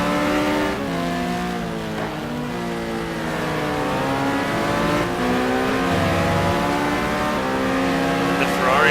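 Ferrari race car engine in a sim racing game during a GT endurance race at Phakisa, a loud sustained roar with rising and falling revs as it pulls away from a Porsche, shifting pitch steadily throughout.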